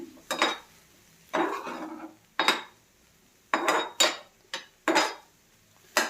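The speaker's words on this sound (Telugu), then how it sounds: "దీన్ని ఇప్పుడు మనం బాగా సాట్ చేసుకుందాం." Spinach and mushroom omelette filling, seasoned with salt and pepper powder, being sautéed in a pan, heard as a series of distinct clinking, scraping strokes of a utensil against metal, fairly close, with short pauses between stirs.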